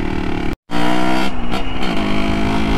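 A dream bike motorcycle's engine roars close and loud on a test ride, cutting out for a split second before revving back up with a rising, straining note.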